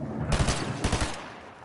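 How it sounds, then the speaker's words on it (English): Rapid pistol gunshots in a video game, two tight bursts of several sharp reports each, close and loud, with no voices over them. "It seems like real people shooting with pistols."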